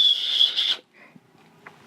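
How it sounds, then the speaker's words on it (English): A shrill, high blast from an emergency whistle lasting under a second, then near silence with faint handling noises. "It also says it comes with a emergency whistle on here as well."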